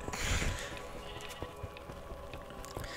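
A sheep bleating in Minecraft Dungeons, a short bleat near the start over game background sound, followed by faint light clicks and thuds with no speech.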